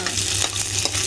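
Dried red chillies, urad dal, chana dal, mustard seeds and cumin fry in hot oil for a broad bean and coconut powder curry, a dense continuous sizzle close up with occasional stirring scrapes, no voices.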